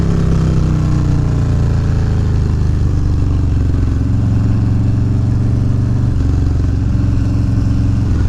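A 2019 Harley-Davidson Fat Bob, bored from a 114 to a 117 with a Stage 3 build, rumbles loudly and steadily in a deep, lopey idle close by, with no talk over it.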